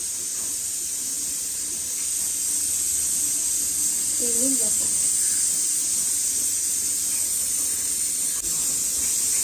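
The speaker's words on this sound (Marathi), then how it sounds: "त्यामध्ये तेल टाकूया." Cooking oil poured into a hot pan hisses in a steady, bright sizzle that holds for the whole stretch, with a faint voice surfacing briefly near the middle.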